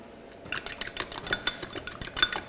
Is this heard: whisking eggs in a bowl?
yes